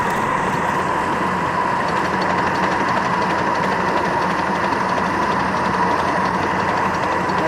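A model steam train climbing a grade after crossing a trestle, heard as a steady, even mechanical rumble and hiss that holds constant and fairly close throughout, with no speech.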